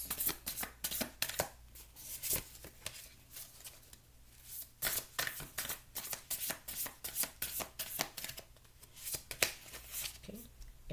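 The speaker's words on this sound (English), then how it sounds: "One more shuffle and then we'll get your cards." Close, crisp tarot card shuffling goes on steadily, rapid papery riffles and taps repeating in bursts with short gaps.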